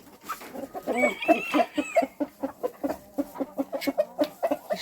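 Australorp chickens cluck close by as fresh greens are handed to them, a run of short, rhythmic clucks and soft calls carrying on for several seconds with no talk.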